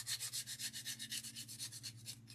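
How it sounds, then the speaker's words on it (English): Sandpaper rubs back and forth over a wooden DIY house number piece in quick, even strokes, close and clear with a faint steady hum beneath and no talking. "what I'm going to do is I'm going to sand this"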